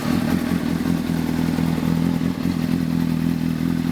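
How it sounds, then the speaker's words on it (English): A 2003 Honda CBR600RR with an aftermarket exhaust pipe, warm from a ride, idles steadily with a low, even engine rumble and exhaust burble, close and continuous with no talking. "I'll start it up. Let you listen to what the pipe sounds like again."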